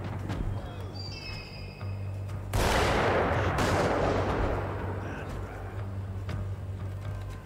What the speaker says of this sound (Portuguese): Já começa o tiroteio já, galera.